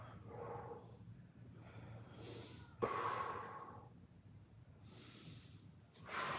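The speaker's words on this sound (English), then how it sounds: "Inhale through the nose, exhale through the mouth." Close breathing during a mobility workout, drawing air in through the nose and pushing it out through the mouth, several airy breath cycles rising and falling with a sharper exhale midway, no speech.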